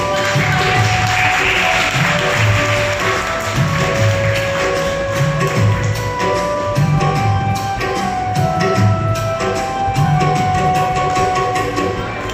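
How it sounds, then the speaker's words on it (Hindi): A group at a yoga and meditation centre claps along to a yoga song, rhythmic hand claps in a steady beat over music with a sung melody, loud and continuous. "तालियां होनी चाहिए।"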